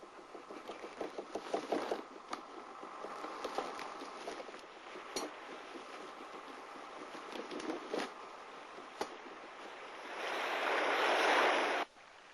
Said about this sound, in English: Down in the valley, the gushing waters of Oak Creek provided refreshment.